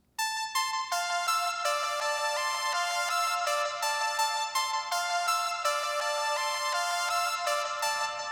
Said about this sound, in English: sending it through a big delay, big reverb, and the arpeggio sounds like this.